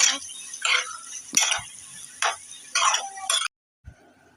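A spoon stirs cow brain curry (mogoj vuna) in a pan, making several separate scraping strokes with short pauses between them, close and fairly loud, ending with a brief knock and then quiet.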